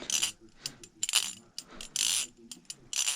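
Quick metallic clicks and snaps repeat in short bursts as a Kershaw Lucha trainer folding knife on bearings is flicked open and shut over and over, close and crisp.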